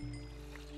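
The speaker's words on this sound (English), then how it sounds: "that's the ambient sounds I was talking about. All that water." Ambient flowing water in a Minecraft-style game, a soft, faint, steady wash and low hum lasting under a second with no voices.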